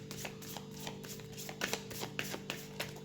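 Tarot cards from the Major Arcana are shuffled and drawn by hand, giving soft, quiet riffling and a run of light flicks and taps close by, with no talking.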